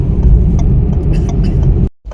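A car cruising slowly on the Agra–Lucknow Expressway in thick fog, held to about 60 km/h. A steady, close interior road rumble and engine drone runs throughout, then cuts out abruptly near the end.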